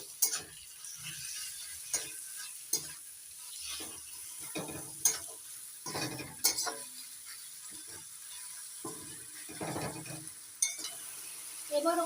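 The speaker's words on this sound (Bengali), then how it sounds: "এক চামচ কাশ্মীরি লাল লঙ্কা গুঁড়ো ভালো করে কষিয়ে নেব মশলাগুলো" Turmeric and Kashmiri red chili powder masala fry for a katla fish head chachchari, quietly sizzling under intermittent spoon scrapes and metallic clinks against the pan.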